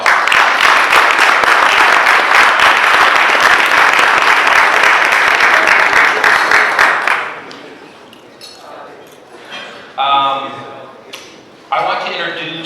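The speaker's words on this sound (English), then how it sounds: "Please give everyone a round of applause." A Rotary club meeting audience welcoming Berlin sister club guests breaks into loud, dense applause for about seven seconds, then fades, leaving scattered sounds and brief speech.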